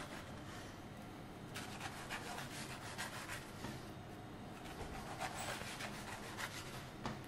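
Knife cutting through crisp, flaky Friesentorte pastry, giving a quiet, continuous crunchy rasp with light crackling bursts, close but faint.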